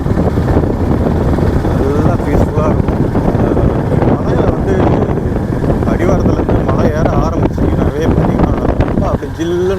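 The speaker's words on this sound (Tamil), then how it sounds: "காற்று வரும்" Strong wind roars across the microphone on the Jawadhu hills mountain road, steady and loud, mixed with a running vehicle hum and a person talking.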